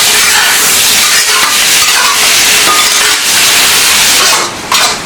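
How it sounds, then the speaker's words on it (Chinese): Pickled sour gourd stir-fried in a wok gives a loud, steady sizzle and hiss with scraping stirs throughout, easing slightly just before the end. "酸副瓜下锅，马上就可以了"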